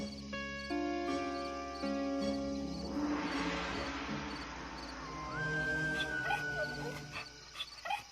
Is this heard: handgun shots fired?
no